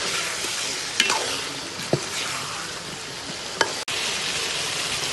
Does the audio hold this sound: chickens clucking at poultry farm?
no